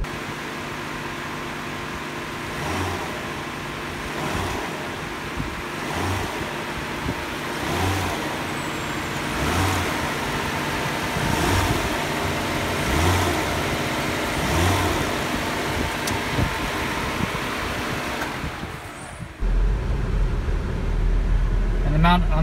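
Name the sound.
Nissan Maxima GLE engine running, put in reverse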